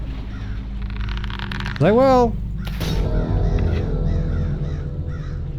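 Crows caw loudly in The Dark Mod, a sharp burst of rising, repeated calls near the middle, followed by fainter caws in the background while a voice speaks briefly.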